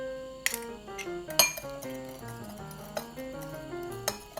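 A utensil stirs sugar into a sauce in a bowl, giving repeated light clinks and scrapes in an irregular rhythm, close and fairly quiet with no talking.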